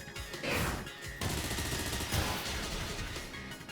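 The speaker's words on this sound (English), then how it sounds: "We're going for Bullet Punch." Bullet Punch attack in a Pokémon Scarlet/Violet battle: a loud barrage of sharp, gunfire-like crashing impacts, with stronger bursts just under half a second, one second and two seconds in, then continuing rapid hits, with no talking.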